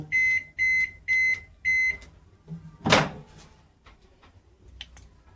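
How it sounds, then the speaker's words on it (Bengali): Four evenly spaced electronic beeps from button presses on a Morphy Richards microwave oven, followed by a soft knock, a louder clunk like a door closing, and a few faint clicks. "আমাদের মরফি রিচার্সের মাইক্রো ওভেন ধোগলা বানানোর জন্য আমি ব্রেকফাস্ট সুইচটা 4 বার টিপে নেব"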